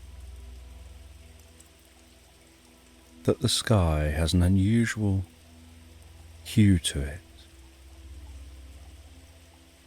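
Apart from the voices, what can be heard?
gentle rain with raindrops pattering on a window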